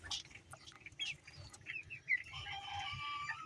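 Sasso broiler chickens, 32 days old and about 980 grams, cluck and chirp in short scattered calls over a low steady hum, with a few sharper peeps and some wing rustling from the flock nearby.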